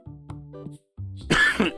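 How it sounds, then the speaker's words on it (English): A smoker's winter cough bursts into a close microphone: throat-clearing grunts, a short pause, then a loud harsh cough, all raw and near. "I'm sorry for coughing into the microphone. You know, my beautiful smoker's winter cough."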